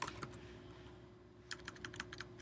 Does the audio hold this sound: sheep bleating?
no